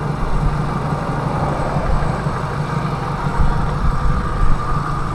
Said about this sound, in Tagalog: tahimik na tahimik ang makina niyan